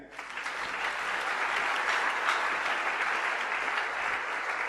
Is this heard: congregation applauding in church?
yes